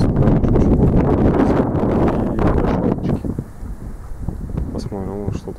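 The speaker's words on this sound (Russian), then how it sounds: "но ветер сильный" Strong wind buffets the microphone beside a river during a fishing trip, loud gusty rumbling for about three seconds before easing to a quieter breeze.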